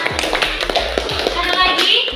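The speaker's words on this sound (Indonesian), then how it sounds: "silakan berikan tepuk tangan" Children applauding in a classroom, with a burst of hand claps and taps close by and a voice faintly mixed in.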